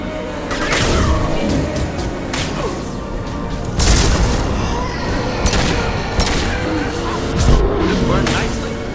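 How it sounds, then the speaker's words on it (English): Heavy gunfire in the video game Mass Effect 2: loud, rapid bursts of shots and booming impacts recur across the stretch, layered over constant battle noise. "Watch for heavy fire."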